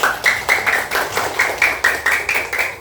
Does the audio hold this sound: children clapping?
yes